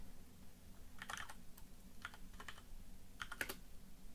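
Someone types a command on a computer keyboard during a debugging session on an embedded device, producing a few short bursts of quiet, close key clicks separated by pauses.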